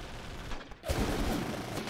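Gunfire in Full Spectrum Warrior, a quieter stretch of distant shots that breaks into a louder, denser burst of firing partway through and continues to the end.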